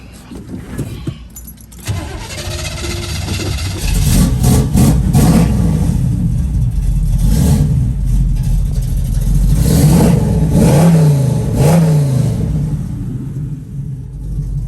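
A 1969 Chevrolet Camaro engine cranks and catches after a quiet moment, then settles into a loud rumbling run through dual exhaust with several throaty revs rising and falling.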